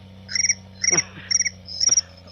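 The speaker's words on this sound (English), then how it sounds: "It was crickets." Crickets chirp in Farming Simulator 19, with four evenly spaced bursts of rapid, high trilling pulses over a low steady background hum.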